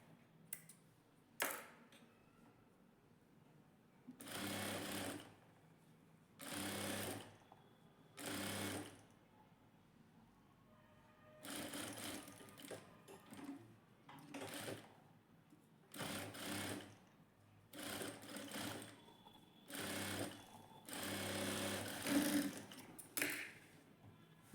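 Stitching piping on a princess-cut blouse, a sewing machine whirs in a dozen short, close bursts separated by quiet pauses.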